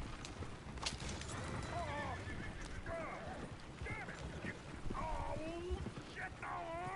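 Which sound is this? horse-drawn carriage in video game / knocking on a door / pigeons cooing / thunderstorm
horse-drawn carriage in video game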